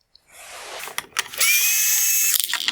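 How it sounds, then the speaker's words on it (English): Small power driver spinning out T20 screws that hold the wire harness on a 2014-2016 Porsche Panamera full LED headlight: a few brief clicks and ratcheting bursts, then a steady close whine for about a second before stopping. "I'm going to remove the T20 screws holding on the wire harness."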